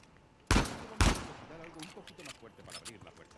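Gunfire aimed at a door in Uncharted 4: two sharp, loud shots half a second apart, followed by fainter clattering impacts and a voice in the background.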